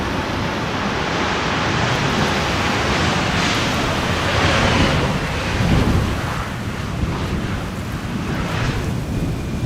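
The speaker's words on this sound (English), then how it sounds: "How's the wind rumble, by the way?" Stormy wind buffets an open microphone at Amsterdam Schiphol Airport during crosswind arrivals, a loud, continuous broadband rumble that swells and gusts throughout with no voices.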